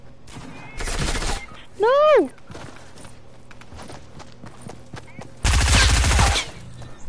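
Gunfire from assault rifles in the Redline video game: two loud, close bursts of rapid automatic shots separated by quieter gameplay noise, with someone shouting in between.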